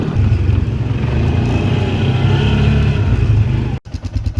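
A Dodge Grand Caravan engine drones loud and close while reversing out of a narrow forest trail, holding a steady low rumble before it cuts off abruptly near the end.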